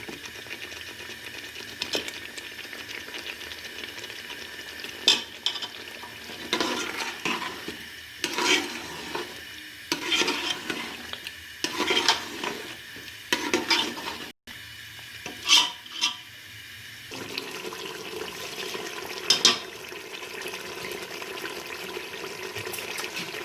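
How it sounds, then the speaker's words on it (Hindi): Chicken and potatoes fry in a pan with a soft, continuous sizzle, broken by repeated bursts of scraping and clinking as a spoon stirs, all close and without talking. "अच्छी तरह ये भुन रहा है।"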